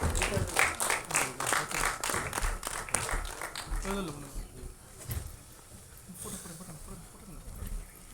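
An audience claps for a guest being welcomed on stage at a film directors' club album song screening festival, a burst of mixed claps that thins out, with voices and crowd chatter underneath.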